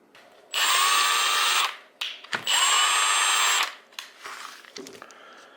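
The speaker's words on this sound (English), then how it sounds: "Then the tool slows down to 750 RPM for better control when removing the nut." A Milwaukee M18 Fuel half-inch cordless impact wrench fires in two loud sustained bursts of whirring and hammering, each about a second long, separated by brief clicks and handling noise.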